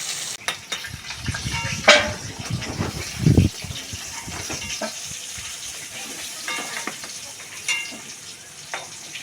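Pointed gourd and potato pieces fry in hot oil, giving a continuous sizzle broken by stirring scrapes and a couple of louder bubbling bursts early on.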